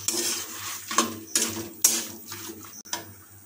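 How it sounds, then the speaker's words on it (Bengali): Metal spatula scraping and clinking against a wok as chicken and potatoes are stirred for chicken ghugni, with irregular clanks and scrapes over a steady low hum. "তাহলে আমরা খুন্তিতে একটু ভালো করে আরও একটুক্ষণ কষিয়ে নেব।"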